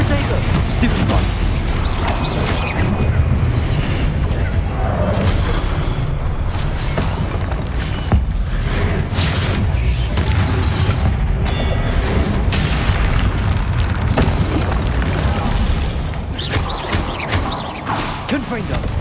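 Confringo blasting spell in Hogwarts Legacy, a fiery combat explosion: repeated booming blasts and impacts in a dense, continuous battle din, loud throughout and mixed with shouted spell names.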